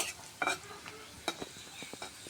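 Garlic and onion stir-fry in oil before jute leaves go in, a quiet, soft sizzle broken by a few sharp utensil scrapes and clinks against the pan.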